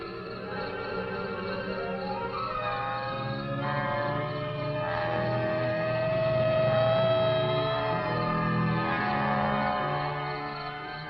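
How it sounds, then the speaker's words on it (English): A police car siren on a rural road beside plowed fields wails with rising and falling pitch, holding steady and growing louder as it approaches, with no talking over it. "Police car."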